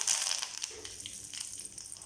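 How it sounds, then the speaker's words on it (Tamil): Mustard seeds and a couple of curry leaves crackle and spit in hot oil in a kadai, a dense, bright popping that starts loud and continues steadily, close up with no talking. "ஆயில் சூடானதும் கடுகு சேர்த்துடலாம். கூடவே 2 கருவேப்பிலை சேர்த்துடலாம்."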